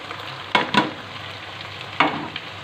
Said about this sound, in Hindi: अब हम इस मसाले को इसमें भूनेंगे